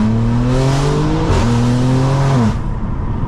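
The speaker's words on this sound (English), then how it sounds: "let me show you how this car sounds" A BMW M4 in second gear downshifts, its exhaust revving with steady engine harmonics that dip and rise again before cutting off, loud and close with no talking.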